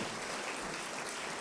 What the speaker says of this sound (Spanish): Yo creo que Él se merece un aplauso